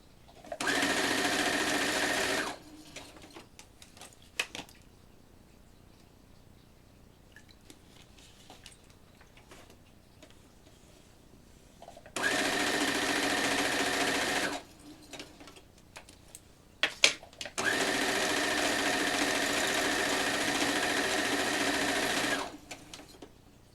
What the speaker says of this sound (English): Finish sewing this one.